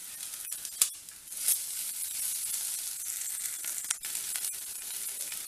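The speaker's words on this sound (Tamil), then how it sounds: "இப்போ காய் வதங்கிடுச்சு." Ivy gourd sautés in a pan for chutney, a quiet hissing sizzle broken by a few sharp scraping or clinking knocks, close and continuous with no voices.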